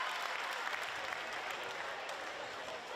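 Crowd at a women's basketball game in the WNBL applauds steadily, a dense wash of clapping for the floor wiper that holds at an even level throughout.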